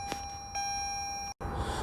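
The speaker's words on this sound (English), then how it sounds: "I'm gonna shut my door and open it back up so my car can stop beeping" A 2018-2020 Toyota Camry SE sounds a steady electronic warning chime at close range, a sustained pure tone that cuts off abruptly before a door-like thump.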